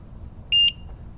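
A single short, high electronic beep from a Veteran Sherman electric unicycle, clean and close against a quiet background.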